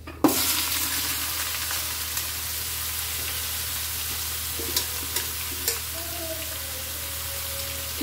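Chopped banana stem sizzles and fries steadily in a pan, with a sharp clatter as it goes in, then a constant hiss and a few light stirring taps.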